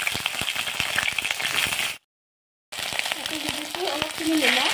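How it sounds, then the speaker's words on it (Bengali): Pointed gourd (potol) fries in a little oil in a kadai on a gas stove, a bright steady sizzle with faint clicks and stirring, broken by a short silence, while someone talks over it. "প্রথমত পটলখিনি ফ্রাই করে লাম"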